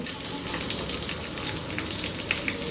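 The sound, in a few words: onions frying in oil over medium heat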